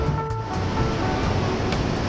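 Ocean waves wash steadily onto the beach at Itacarezinho, Bahia, a continuous, fairly loud roar of surf with wind noise and no speech.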